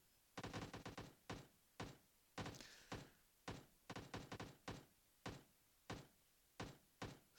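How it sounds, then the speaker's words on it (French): Gunshots in the battle royale game PUBG Mobile, a series of sharp cracks in short bursts and single shots, repeated steadily and fairly loud, with no talking. "C'est où que ça tire là?"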